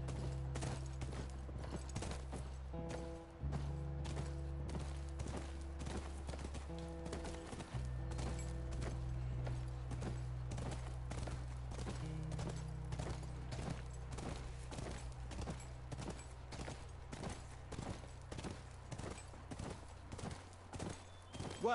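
Horse hooves clip-clop steadily near a ranch in a horror video game, a continuous rhythmic walking beat layered over sustained musical tones and low ambient drones, with occasional snorts.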